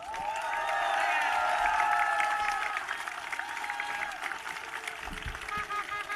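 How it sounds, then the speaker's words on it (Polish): An audience at a town meeting rally in Gniezno, Poland, breaks into sustained applause and some cheering, strongest early on and then thinning into scattered claps with a few voices mixed in. "tak, oklaski, poproszę."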